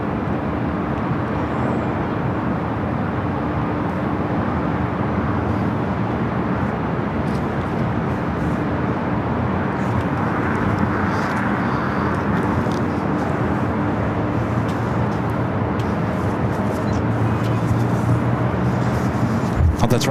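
An Atlas Air Boeing 747-400 freighter takes off from the south side at LAX, its jet engines making a loud, steady roar that builds and holds for the whole stretch, with a voice talking over it.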